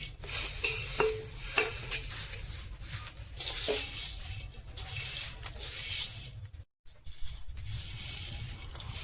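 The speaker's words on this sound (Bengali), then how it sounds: "চলুন এবার সিমাইটাকে আমি দিয়ে দিই কড়াইয়ে" A utensil scrapes and stirs through dry wheat-flour vermicelli sizzling in a wok, a continuous rustling fry with occasional soft clinks.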